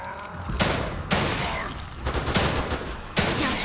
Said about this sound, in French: Canarde-les jusqu'à ce qu'ils crèvent ou qu'on ait plus de munitions.